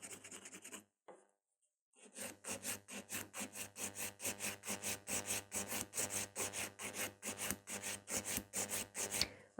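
A nail file rasps steadily across a fingernail, smoothing and thinning its edge, with a brief pause near the start before close, rhythmic back-and-forth strokes run on evenly and clearly.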